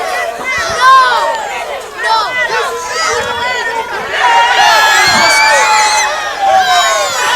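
At a Halloween wrestling event, a loud crowd of kids and fans chatters, shouts and whoops continuously while a ladder match unfolds, with an announcer's commentary mixed in over the hubbub.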